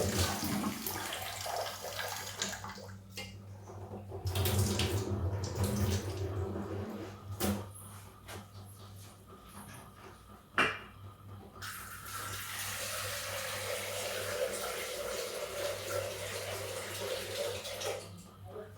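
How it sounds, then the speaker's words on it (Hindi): Tap water runs steadily into a vessel while mung and urad dal are washed by hand in a home kitchen, a continuous close splashing rush with brief clinks, a soft voice faintly underneath. "जरा इस दाल को हम धुलते हैं।"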